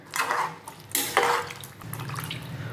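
A spoon stirs a salted rice mixture for sambar rice inside a pressure cooker, producing a few scraping metal strokes and wet sloshing, followed by a lower, softer bubbling swirl.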